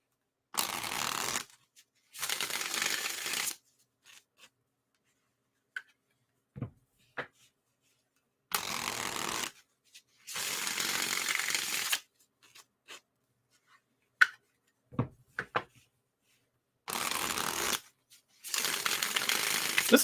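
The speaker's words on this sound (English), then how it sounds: "This also shuffles really well for a Llewellyn deck" A Llewellyn tarot deck is shuffled in six distinct bursts of riffling card noise, each lasting a second or two, with quiet gaps holding small taps and card handling between them, close and fairly soft.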